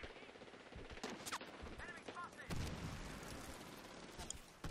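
Gunfire in Medal of Honor: Warfighter multiplayer near a bobsled track, with rapid machine-gun bursts and scattered shots, some close and sharp, others distant, while a player talks quietly underneath.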